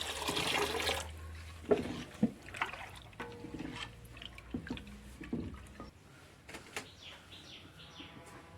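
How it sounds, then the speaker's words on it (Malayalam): Water is poured into a pot of cooking rice batter for rice kondattam, a steady broadband splash rushing for about a second, followed by quieter sloshes, scrapes and small clatters of stirring. "നമുക്ക് കുറച്ച് വെള്ളം കൂടി ഒഴിച്ച് കൊടുക്കാം"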